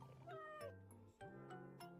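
Played from a YouTube video, a big cat gives several drawn-out, wavering meows and yowls in quick succession, close and fairly clear.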